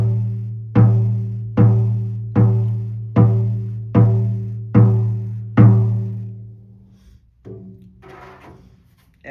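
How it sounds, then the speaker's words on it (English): Calf skin hand drum struck seven times at a steady, unhurried pulse, each deep resonant boom ringing out and decaying before the next, then a couple of softer, quieter taps near the end; close and clear with no talking. "Next we have a calf drum, which we've had in stock already"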